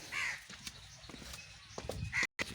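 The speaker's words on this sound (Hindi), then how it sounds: "ये कौवे की आवाज़ आप सुन रहे हैं" A crow caws outside in a village setting, a few harsh calls at the start and near the end, moderately distant over quiet ambient noise.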